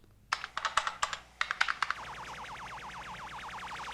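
Keys on a computer keyboard are tapped in a quick burst of clicks in the 1981 science-fiction film Outland, followed by a rapid pulsing electronic warble.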